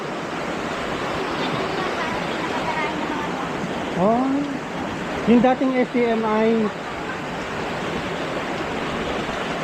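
A river swelling after nonstop rain, with lake water running through a culvert, makes a steady broadband rush of flowing water throughout, while voices briefly talk over it in the middle.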